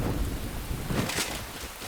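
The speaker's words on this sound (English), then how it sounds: "here comes the rain" Rain falling in the video game Enshrouded, a steady dense wash of close downpour with a low rumbling undertone, heard alone without voices.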